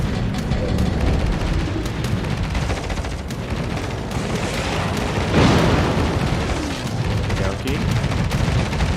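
Naval gunfire in World of Warships, a ship's guns blind firing at incoming torpedoes: dense, repeated booms and blasts in a busy battle mix, with one heavier burst midway.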